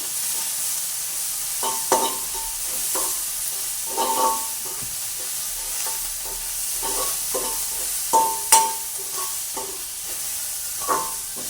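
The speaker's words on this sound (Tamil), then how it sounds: "இடித்து வச்ச உள்ளி இஞ்சியை வந்து நாங்கள் அப்படியே போட்டு பிரட்ட போகிறோம்" Crushed garlic and ginger sizzling in a hot pan, with a spoon scraping and stirring in irregular bursts over a steady frying hiss, close and moderately loud.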